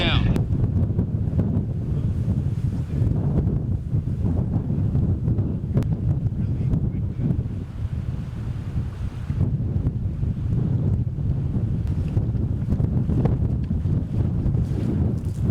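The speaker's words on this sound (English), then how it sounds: "by far the strongest wind yet." Strong wind gusting over an open lake at a wilderness campsite, a loud, steady roaring buffet across the microphone with a low rumble and no letup throughout.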